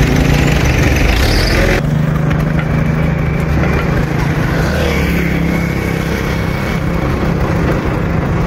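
A 2025 motorcycle engine running loud and close, a continuous rough droning hum with a brief change in tone early on, then steady idling and throttle for several seconds with no talk.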